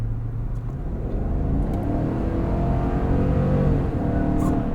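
A 2023 GMC Yukon Denali Ultimate's 6.2-liter V8 pulls steadily under acceleration in sport mode, with a continuous low engine drone and rising harmonic tone heard from inside the cabin while driving.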